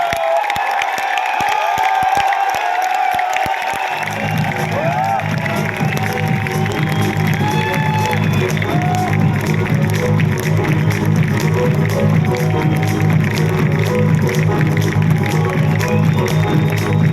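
An audience at a direct selling event breaks into applause and cheering, a thick continuous roar of clapping that swells after a few seconds and holds steady, with music playing underneath.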